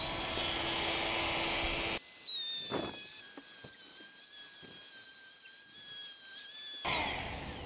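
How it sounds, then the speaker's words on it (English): A Dremel rotary tool cutting a slot in a hard steel exhaust hanger for a RAM 1500 exhaust, a high whining spin with shifting pitch and short scraping bites, loud and close, starting and stopping abruptly. "I'm going to see if my Dremel will attack this"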